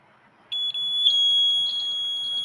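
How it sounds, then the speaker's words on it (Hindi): A small electronic buzzer under test with a multimeter gives a steady, piercing high-pitched tone that starts abruptly, briefly breaks, then continues loud and unbroken, with no talking. "तो ऐसे करके हम बजर का भी पता कर सकते हैं कि बजर हमारा सही है कि नहीं।"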